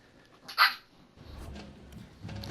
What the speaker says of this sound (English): Enjoy some puppy sounds in the background.